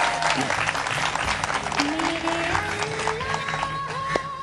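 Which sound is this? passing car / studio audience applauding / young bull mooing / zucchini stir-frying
studio audience applauding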